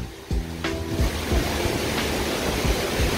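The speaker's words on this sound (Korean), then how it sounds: "계곡에서 이렇게 물이 엄청나게 나옵니다." A mountain valley stream below the Mujoochae Waterfall in Gapyeong, rushing loudly and steadily, with brief knocks and bumps close by and no talk.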